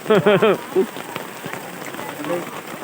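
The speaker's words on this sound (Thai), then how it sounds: "อันนี้ฝนตกกันยังหลายอยู่นะครับ" Steady rain falls outdoors in a soft, even hiss, with a voice briefly heard at the start.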